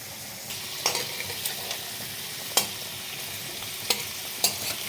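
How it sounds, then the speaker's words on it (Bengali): Tengra fish frying in mustard oil, a steady close sizzle with scattered sharp pops and spatters over a few seconds, no voices. "ট্যাংরা মাছগুলো তো তেলে ফাটবে"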